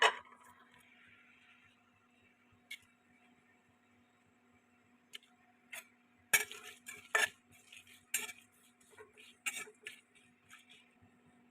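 Dry spices are stirred in a hot kadai, heard as sparse metallic clinks and scrapes of the utensil against the pan that grow busier toward the end, over a faint background hum.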